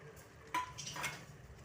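Egg biryani being stirred with a spoon in an electric cooker, a soft scrape and a louder clink of the utensil against the metal pot around the middle, then quieter scraping, close by with no talk.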